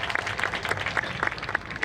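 A festival crowd at an outdoor Akita Yaartose stage claps a steady, evenly spaced rhythm in support of a kids' naruko dance team, the massed handclaps dense and moderately loud.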